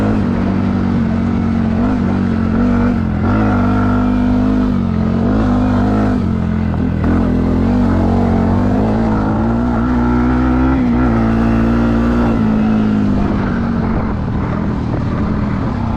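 A 2026 Yamaha WR125R motorcycle rides offroad, its small single-cylinder engine droning loud and close throughout with a steady buzzing tone that rises and falls slightly, heavy rumble and wind noise underneath.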